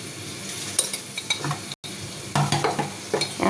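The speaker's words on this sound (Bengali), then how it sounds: "সব কিছু দিয়ে আমি এখানে মিক্স করে নিচ্ছি।" Spoon stirring ground coriander and cumin into a marinade, a scraping, sizzle-like mixing with soft clinks and scrapes in short bursts, close and fairly quiet, with a brief pause partway.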